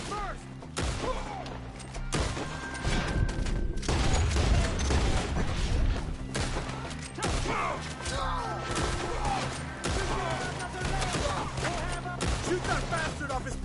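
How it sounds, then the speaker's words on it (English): Gunfire and crashing impacts in Red Dead Redemption 2 during a fight against enemies up in the trees, dense and continuous with loud bursts, layered over a busy game soundscape. "Shoot the ones up there first!"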